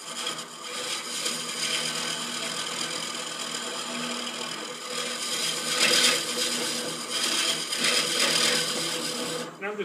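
A power tool takes fairly light, shallow passes in wood, a continuous rasping, grinding cut that stays at an even level and surges a little louder toward the end, with no voices.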